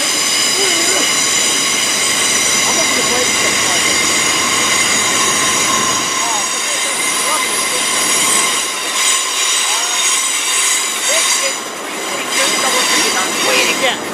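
A Class 332 train at London Paddington squeals loudly on its wheels, a piercing high-pitched tonal screech held over the rumble of the train for the whole stretch.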